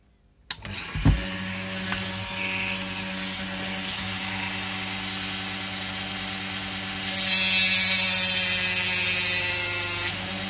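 A rotary tool fitted with a diamond-tip ball grinds at a rivet on an Autoworld 4 Gear slot car, a close steady high whine after a click on, turning brighter and harsher near the end as the bit bites in.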